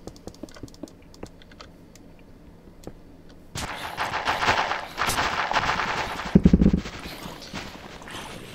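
Sharp crackling bursts and booming pops from fireworks in the Minecraft modpack Project Ozone 3, loud and dense for several seconds after quiet clicking at the start.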